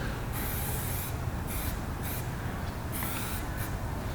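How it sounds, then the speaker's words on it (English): A high-pressure can of white spray paint hisses in several bursts of differing length with brief gaps between them, loud and close, with no talk. "The white is such high pressure, you're gonna get a lot of overspray with it."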